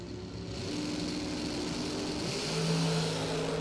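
A 1967 Camaro and a Mopar drag car launch down the strip at a doorslammer drag racing event, a loud, steady engine roar that swells in the last second as the cars accelerate away.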